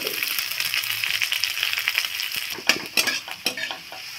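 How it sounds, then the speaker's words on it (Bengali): Chopped dried red chilli, garlic and onion sizzle in oil as they are stirred, a close, steady frying hiss that gives way to several distinct spatula scrapes and clinks against the pan near the end. "সমস্ত উপকরণগুলোকে আমি একটু তেলে নেড়ে নিয়েছি।"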